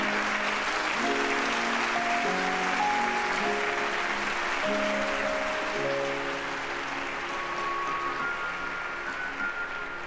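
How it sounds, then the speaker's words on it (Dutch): Audience applause for the final-year students of SAS, a continuous wash of clapping heard under sustained music with held tones throughout, steady in level for about ten seconds. "Applaus voor de laatstejaars van het SAS."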